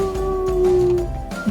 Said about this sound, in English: there's like wolves and coyotes and wildlife howling in the distance